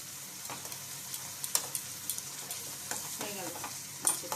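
Fish frying in oil in a pan gives a soft, continuous sizzle with scattered small pops and crackles. The sound is close and steady, and no one speaks.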